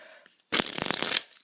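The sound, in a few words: shuffling a deck of playing cards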